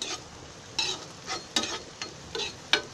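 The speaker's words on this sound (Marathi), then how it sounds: "नंतर कांदा हलवून बघते" Finely chopped onion frying in a pan being stirred with a spoon, making several scraping, clattering strokes at irregular intervals over a faint sizzle, close by, with no talking.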